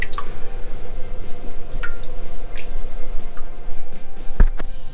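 Liquid drips and trickles steadily close by from a lifted filter in a Grainfather G40 brewing system, with scattered wet drops and a soft squishy sound.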